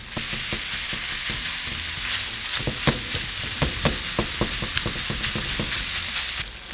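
Pork and chorizo fry together in a pan with a steady sizzle, broken by repeated sharp scraping clicks of a utensil stirring and breaking up the meat, close and moderately loud.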